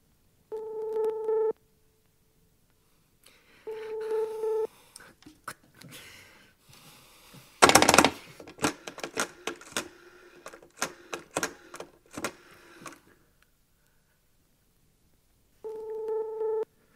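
A telephone call signal in a German audiobook: three short electronic ring tones sound in separate bursts, with a stretch of clattering, rustling and faint mechanical noise between them.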